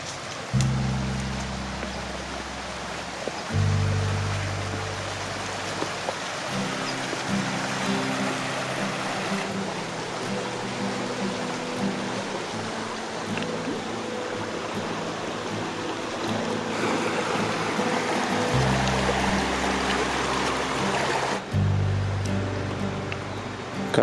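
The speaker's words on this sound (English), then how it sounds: "you got a nice flowing creek down there" A flowing creek along an old railroad dump, a continuous broadband rush of water that stays steady throughout, with low rumbling thumps and handling noises close by.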